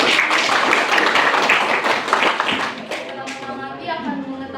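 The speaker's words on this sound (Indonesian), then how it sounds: "bagus, berikan aplaus" Students in a classroom applaud in a brisk burst of clapping for a couple of seconds, which fades as a voice begins talking.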